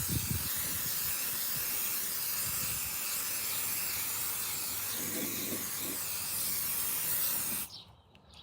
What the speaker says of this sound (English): I had to spray this